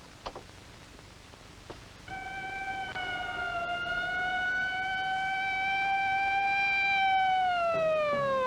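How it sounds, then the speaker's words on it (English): An ambulance siren wails in a long rising and falling tone, swelling from faint to loud as it approaches. "Ambulance,"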